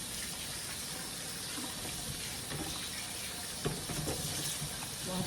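Running tap water splashes steadily over sweet potatoes being washed in a sink, a continuous broadband rush with a few brief knocks and clatters near the end; no one speaks.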